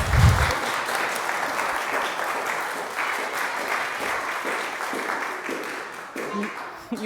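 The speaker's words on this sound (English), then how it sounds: "so let's give a round of applause" An audience at a religious education milestones gathering gives a round of applause, steady dense clapping filling the room for several seconds and easing off toward the end, with faint voices mixed in.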